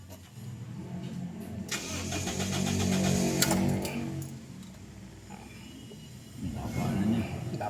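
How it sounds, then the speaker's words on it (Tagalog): A Toyota Revo VX200 with an idle that starts high and then drops, cranking over and settling into a steady idle that rises again near the end, with someone talking over the engine. "Start makina, di ba?"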